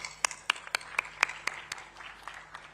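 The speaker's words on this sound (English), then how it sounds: "clapping for you." Sparse, scattered hand claps from a small audience at an aviation launch event, about a dozen distinct claps spaced unevenly and fading out, fairly close but thin.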